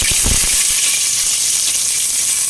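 Whole spices such as cinnamon, cloves and bay leaf frying in hot oil for chicken biryani, a steady bright sizzle with a few louder pops at the start.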